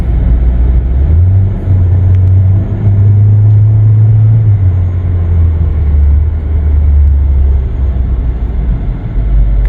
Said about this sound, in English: Here we go, driving the vehicle.